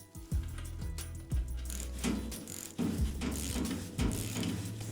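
A ratchet and socket tighten a bolt on an ATV off-road light mount, giving quiet, close mechanical clicks in short bursts of several strokes with brief pauses between them.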